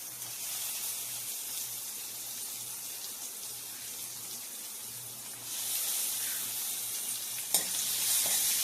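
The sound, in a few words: chopped onions frying in a pan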